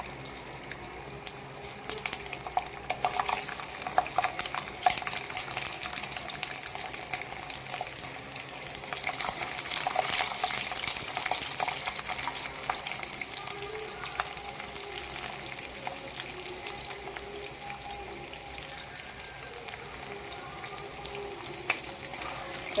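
Garlic fries in hot oil for a sundakkai kuzhambu curry, a continuous bright sizzle with crackling spits, close and fairly loud, steady for the whole stretch.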